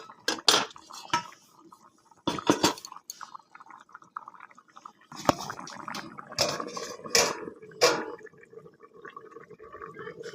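A metal lid going onto a cooking pot of jackfruit, with a handful of sharp metallic clinks and clatters, close up, separated by quiet moments with faint sizzling.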